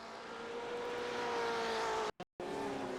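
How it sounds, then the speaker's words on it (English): GTE race car engine in iRacing at Imola during a spin, a loud sustained engine roar with a shifting tone that cuts out abruptly for an instant and then resumes, no talking. "So this was Glenn Barrett, and it was a spin there"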